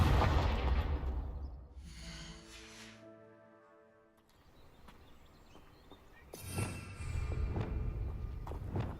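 A Confringo explosion spell cast in a snake-themed video game, a heavy booming blast with low rumble at the start, a quieter tonal stretch, then another loud burst of crashing impact noise near the end.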